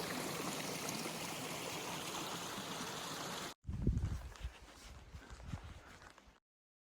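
A mountain creek on the Colorado Trail rushes steadily and close by for a few seconds, then cuts to a quieter stretch with soft trickling and a few dull knocks.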